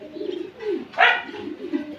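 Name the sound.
Royal Terry pigeons cooing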